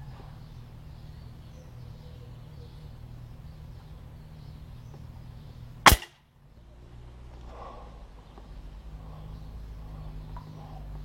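A single sharp crack of a Stoeger X-Magnum 4.5mm air rifle firing a pellet rings out midway through an otherwise quiet, faintly humming outdoor background.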